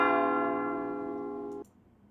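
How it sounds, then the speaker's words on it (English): A single church bell rings with a rich sustained tone that slowly decays, then cuts off abruptly. "Here's some church bells."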